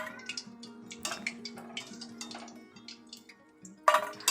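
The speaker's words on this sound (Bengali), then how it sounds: "তোলার সময় ঝনট ঝনট করে আওয়াজ হচ্ছে বাটির মধ্যে দেওয়ার সময়" Crispy fried chicken pakora pieces clink against a bowl as they are dropped in, a scattered run of light clatters and chinks with a louder knock near the end, close and fairly quiet.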